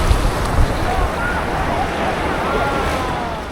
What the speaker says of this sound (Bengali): এই একটা বড় ঢেউ আসছে।